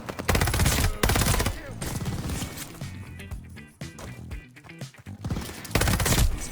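Rapid automatic fire from a Cooper carbine assault rifle in a shooter video game, loud dense bursts at the start and end with sparser shots and game noise between.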